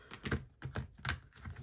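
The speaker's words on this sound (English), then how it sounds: "see if I can shuffle it" Stiff, thick, chunky tarot cards being shuffled by hand, giving a few soft, close papery bursts in an uneven rhythm with short pauses between.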